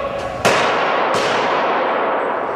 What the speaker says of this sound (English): You can hear by his shotgun blasts, he was shooting at the police.